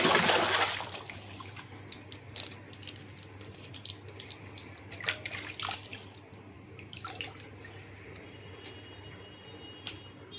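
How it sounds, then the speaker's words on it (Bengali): Water running from a pipe onto laundry being hand-washed, opening with a strong gush, then quieter splashes, drips and wet fabric handling. "আর এখান থেকে আমি পাইপ বিছিয়ে নিয়ে মোটা জলে কাপড় চোপড় ধুচ্ছি"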